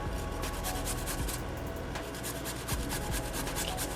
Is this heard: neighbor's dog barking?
no